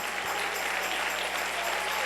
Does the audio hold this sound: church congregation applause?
yes